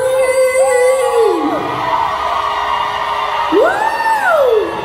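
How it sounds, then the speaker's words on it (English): A live concert crowd at Stereo Garden in Patchogue, New York screaming and cheering, a loud sustained roar with several rising and falling whoops standing out above it. "All right, everybody, scream!"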